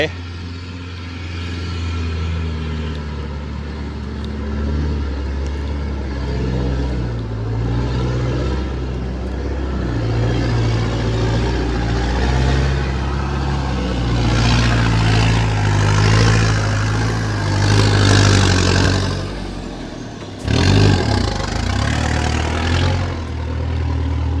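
A tractor engine drives and pushes, a heavy low rumble running throughout and swelling louder toward the end, while people talk over it.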